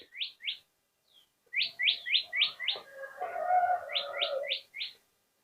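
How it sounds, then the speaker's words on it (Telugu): Birds in a zen garden chirp in quick bright bursts of three to five notes, separated by short silences, with a lower warbling call underneath in the middle; it is fairly close and there is no talking. "పక్షులన్నీ అరుస్తున్నాయి బటర్ఫ్లైస్"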